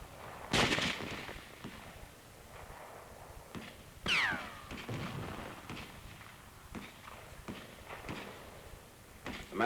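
Mortar fire supporting an army patrol on a 1944 island battlefield: a few sharp booming blasts at irregular intervals, separated by quieter rumbling and clatter, heard from middle distance on a grainy recording.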